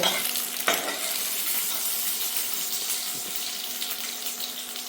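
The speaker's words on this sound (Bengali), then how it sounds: "আচ্ছা কেটে রাখা পেঁয়াজ দিল" Chopped onions frying in a pan while chilli chicken is cooked at home, a steady close sizzle with a sharp clatter as they go in near the start, continuing evenly throughout.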